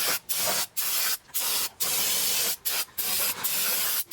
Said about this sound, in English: Now, just get some brake cleaner.